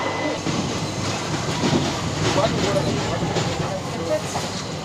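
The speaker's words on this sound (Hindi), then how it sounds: "हमारी ट्रेन विजयवाड़ा से निकल चुकी है" A passenger train running out of Vijayawada gives a steady rumble and rattle with clickety-clack from the rails, heard from on board, loud and continuous, with faint voices under the noise.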